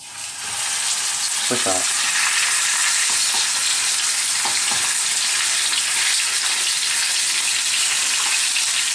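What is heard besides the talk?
stuffed turkey breast frying skin side down in hot oil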